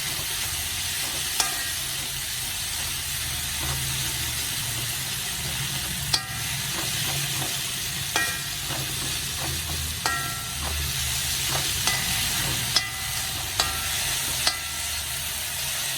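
Onions sizzle steadily in a pan for a soybean curry, with an even frying hiss and occasional clinks and scrapes as they are stirred, close up and with no talking.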